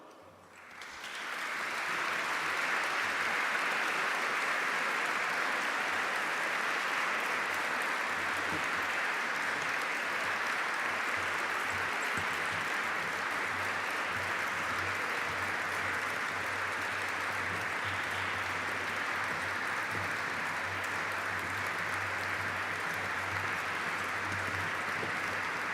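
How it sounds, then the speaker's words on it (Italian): An audience applauds as a choir walks forward to the front during a live event, building quickly into loud, continuous clapping that holds steady for more than twenty seconds with no talking. "a voi il coro che invito a raggiungerci qui davanti e che vi prego di accompagnare con un grande applauso"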